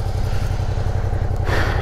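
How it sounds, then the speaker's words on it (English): Loaded touring motorcycles on a long Himalayan road trip from Manali toward Hyderabad idle to warm up, their engines giving a loud, close, steady thumping pulse throughout, with no voices over it. "Bikes are all packed up, idling to warm up the engine."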